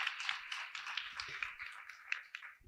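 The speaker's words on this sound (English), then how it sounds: "let's give him a big applause" Applause from an audience at the Nordic DAIR Awards 2021 ceremony, a steady wash of many hands clapping. It is fairly faint and distant, runs throughout, and has a few sharper claps standing out.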